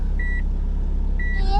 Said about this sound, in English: It's just warning me that I'm going backwards.